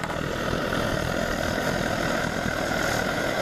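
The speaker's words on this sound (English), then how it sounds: "And that right there is the classic sound of this stove." A loud, constant roar from a Svea 123R camping stove burner, steady and close, with no other sounds.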